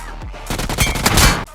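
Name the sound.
gunfire in video game PUBG Mobile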